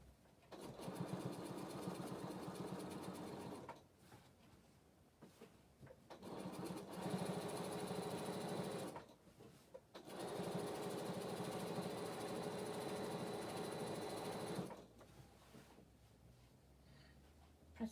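A domestic sewing machine stitches a joined fabric strip in three bursts of rapid, buzzing motor chatter, each lasting a few seconds and separated by short quiet pauses, close and fairly soft.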